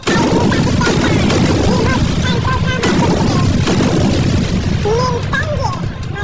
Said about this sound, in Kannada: ನಿಮಗೆ ಕೊಟ್ಟಿರೋ ಮನೆಗಳಲ್ಲಿ ಬಾಂಬ್ ಬಿಟ್ಟಿದ್ದೀನಿ